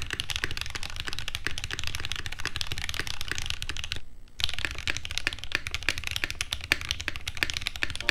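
Rapid, continuous clacky typing on a Z60 Evolve mechanical keyboard without case foam, close and crisp, with one brief pause midway before the keystrokes resume.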